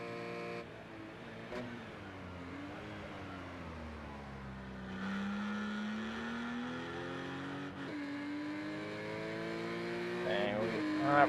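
A Porsche race car engine hangs against its rev limiter during a qualifying session, giving a loud, continuous buzzing drone with a stuttering pitch that climbs steadily toward the end.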